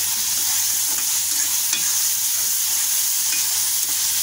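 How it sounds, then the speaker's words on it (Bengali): Tomatoes sizzle and are stirred in a pan on a gas stove while chicken pasta cooks, giving a continuous loud frying hiss with occasional spoon scrapes and no talking. "আর আমার এই চুলার আওয়াজে যদি কথাটা ভালো করে বোঝা না যায়"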